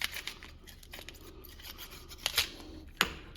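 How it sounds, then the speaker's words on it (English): Quiet snipping and scraping of scissors-like cutters trimming a part off by working around it on a 1955 Chevy Nomad project, with a few soft cuts and two brief sharper snips near the end. "to cut it off, this I found to be the best way"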